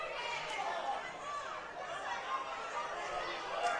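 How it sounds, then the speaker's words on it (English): A soccer stadium crowd at a West Adelaide versus MetroStars match gives a sustained, moderately loud murmur of mixed voices and reactions from just below, with no clear single speaker. "Hence the sound from the crowd just below me."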